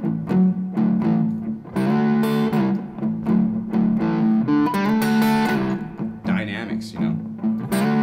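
Distorted electric guitar plays blues rhythms and licks, sometimes without a pick, in sustained bends and choppy phrases that ring loud and close, with no talking over the playing.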